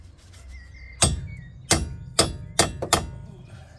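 Five sharp hammer strikes ring out on the ball joint of a Mazda 6 GJ control arm, spaced about half a second apart after a quiet start, each a bright metallic crack that fades quickly.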